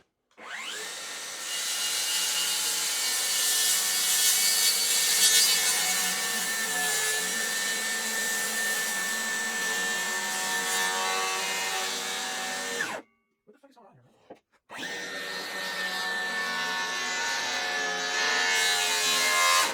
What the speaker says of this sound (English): set up a fence for my circular saw to cut this off clean